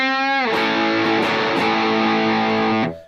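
A loud, sustained electric guitar chord through an MXR Distortion III pedal rings out, thick and buzzing, then cuts off abruptly near the end.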